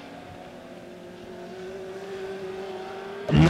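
Dirt legend race cars run nose to tail at Lebanon Midway Speedway, a steady mid-distance engine drone with a rising tonal pitch, ending in a louder burst as a car roars close by.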